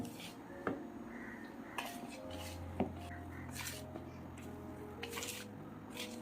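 Rava cake batter is mixed in a bowl, with quiet, scattered spoon scrapes and knocks against the bowl over a low background hum, soft and close.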